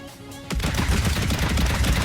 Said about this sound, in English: Turret works well.